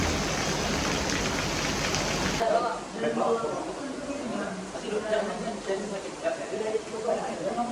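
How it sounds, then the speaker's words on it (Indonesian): Heavy rain pours down in a steady broadband hiss that fills the background, with a sharp drop in level partway through while the downpour continues underneath, and no one speaks. "Deras banget hujannya tuh lihat."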